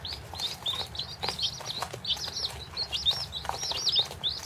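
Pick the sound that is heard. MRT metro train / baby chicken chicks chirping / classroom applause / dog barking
baby chicken chicks chirping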